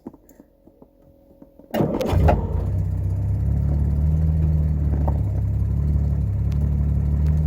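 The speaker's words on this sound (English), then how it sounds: "Listen to that engine." A classic Jaguar Mark VII engine cranks and catches with a sharp burst, then settles into a steady, rumbling idle that continues close by.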